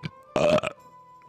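A single loud, close burp, short and guttural, rises out of near silence and then trails off into quiet.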